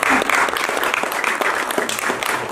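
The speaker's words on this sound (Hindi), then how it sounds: "आपकी तालियों से हमारा काफी उत्साहवर्धन हुआ है" A theatre audience at a performance of the play Manglu breaks into dense, sustained applause, loud and close, with no talking over it.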